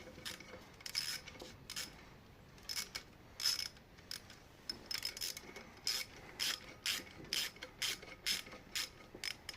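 Socket wrench ratcheting on a Ruston Hornsby 8PB engine during a main crank seal replacement: quiet bursts of rapid clicking strokes, repeated in an uneven rhythm with short pauses, close by and with no talking.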